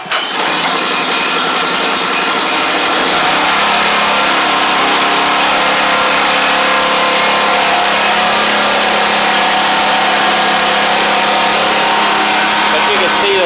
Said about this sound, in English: So here's the generator. Let's see if it'll start up for us.